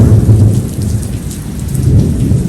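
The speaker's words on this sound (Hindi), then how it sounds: "सुबह 3:30 बजे इतना तेज तूफान आया था" Heavy rain pouring in a violent thunderstorm at about 3:30 a.m., a loud dense hiss with deep rumbling thunder underneath, steady throughout and close by.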